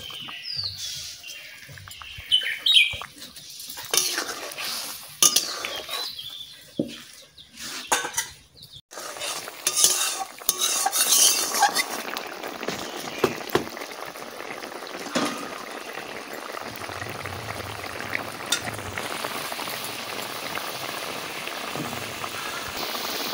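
A spiced fish curry seasoned with salt, chili powder and a little black pepper bubbles at a steady simmer, with intermittent clatter and splashes as pieces of fish go into the pot and a utensil knocks against it.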